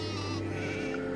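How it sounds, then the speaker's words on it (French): Sheep bleat steadily and fairly loudly during a river crossing, a brief continuous cry over a constant low hum of water and the surroundings. "Les moutons ne veulent pas traverser."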